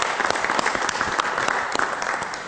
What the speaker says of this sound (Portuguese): vamos aplaudir o nosso Pastor Taborda!